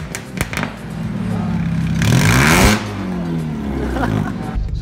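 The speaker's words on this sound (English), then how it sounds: "the car still has a little bit of a raspy noise at about 3000 RPM" A Mercedes W203 engine revs repeatedly with a raspy, loud straight-piped exhaust note with silencers and resonators removed, raspy around 3000 RPM, climbing to a sustained high-rev blare before dropping back to a rumbling idle.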